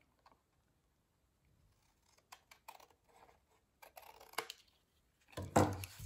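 Small scissors snip paper while trimming pieces for a handmade Christmas accordion album: a scattering of soft, crisp cuts and clicks that grow closer and louder toward the end, in a quiet room.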